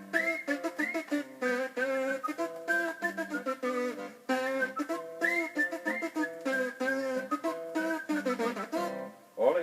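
A person whistles a bright, lively tune alone, phrase after phrase in a quick bouncing rhythm with short pauses between runs, close and clear.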